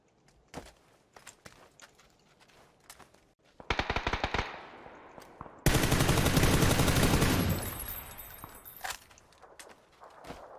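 PUBG gunfire sprayed through a red dot sight, with a couple of loud sustained automatic bursts mid-stretch, each rattling for a second or more, surrounded by scattered distant single shots and footsteps.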